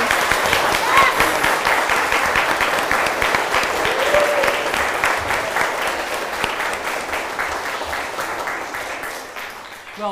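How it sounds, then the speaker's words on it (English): An audience applauds after a Guinness World Records Rolling Numbers attempt, a sustained round of clapping that stays strong and slowly fades toward the end. "One more round of applause"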